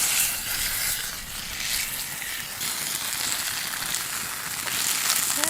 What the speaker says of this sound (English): Fry them up a little bit.